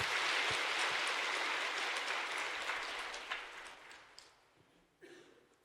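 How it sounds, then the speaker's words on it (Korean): Congregation clapping during a church worship service, a brief burst of applause that starts full and thins out to scattered last claps. "하나님께 큰 박수로 영광을 올리겠습니다"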